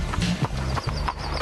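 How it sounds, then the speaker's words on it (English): Horse hooves clip-clopping along a road, a quick run of distinct, fairly close hoof strikes over a low hum, with no voices. "A horse and its rider have less protection than other road users."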